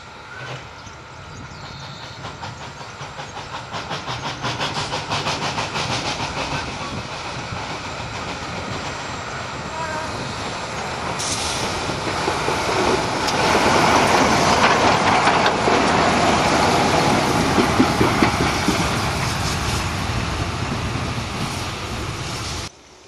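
Steam locomotive 464.001 running around its train at a station, with a steady chugging, clanking rumble of wheels and machinery that gradually grows louder and closer over about twenty seconds, with a hissing wash of noise and no voices.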